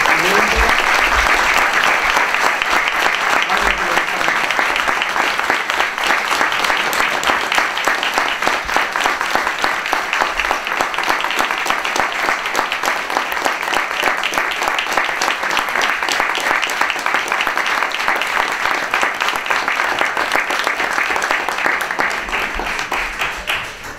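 Long, steady audience applause in a conference hall, loud and dense with rapid overlapping claps that keep going for over twenty seconds without fading.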